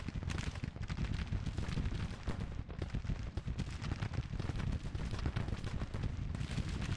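Continuous battlefield gunfire in the video game Grand Tactician, a dense, rolling crackle of massed musketry and booming volleys that holds steady and loud throughout.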